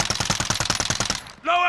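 A Call of Duty Modern Warfare 2019 SMG empties its magazine in a fast, even string of about a dozen loud, close shots, which stop abruptly and give way to a short tonal effect.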